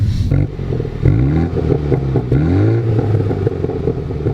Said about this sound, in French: Ça fait les petites pops and bangs là, l'échappement